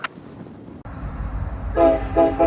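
A roughly 1.5-mile-long Union Pacific manifest freight train on the Mojave subdivision rumbles nearby, with loud horn blasts near the end over the low rolling roar.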